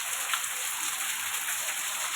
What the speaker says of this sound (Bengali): দেখছো চারিদিকে বাড়িতে পুরো জল জল হয়ে যাচ্ছে খুব জোরে বৃষ্টি হচ্ছে